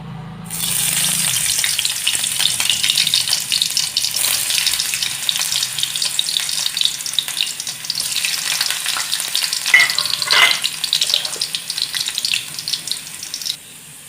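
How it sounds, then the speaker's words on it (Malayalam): Garlic frying in hot oil, a bright steady sizzle that starts abruptly and crackles on loudly and close for over ten seconds, then stops, with no talking. "നമ്മുടെ എണ്ണയ്ക്കകത്ത് കിടന്നാണ്ട് വെളുത്തുള്ളി മൂത്തുകൊണ്ടിരിക്കുക"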